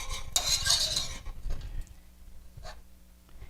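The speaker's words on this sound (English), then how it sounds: "and I'm whisking it" Chocolate pie filling whisked in a pot, heard as a loud, close burst of rapid metallic clinking and scraping that fades into softer, occasional scrapes and taps.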